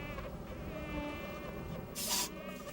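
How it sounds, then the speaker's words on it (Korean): A swarm of mosquitoes whines over fields in a rural village in Ulsan, a thin continuous high buzzing with layered droning tones and a brief louder burst near the end. "때 아닌 모기떼의 극성으로 들녘에 나서기가 힘든 상황이다."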